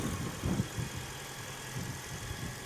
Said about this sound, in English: Now this is your hybrid engine.